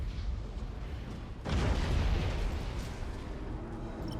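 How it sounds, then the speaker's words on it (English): Missile barrages launched from warships in the space strategy game Battlefleet Gothic Armada 2, a low rumbling boom swelling midway and holding as a dense, sustained roar of distant blasts. "Fire some missiles. Fire everything."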